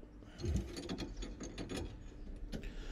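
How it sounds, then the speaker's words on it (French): A bolt being tightened on a car with a double wrench, giving a close run of ratcheting mechanical clicks that stays steady and fairly quiet for a few seconds, with no talking. "je me sers d'une double clé pour faire le serrage"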